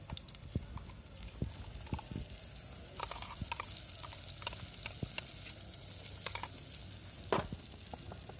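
Ground masala spice paste sizzling in hot oil in a pot over a village wood-fired stove, with steady crackling and sputtering, scattered sharp pops and occasional stirring clatter, fairly close and moderate in level with no talk.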